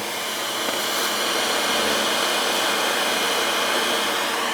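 A loud, steady whooshing motor roar with broadband blower noise from a malfunctioning gas water heater, constant throughout and heard up close.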